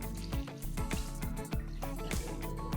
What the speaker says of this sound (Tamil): கடலையும் உருளைக்கிழங்கும் முழுகிற அளவுக்கு தண்ணி ஊற்றி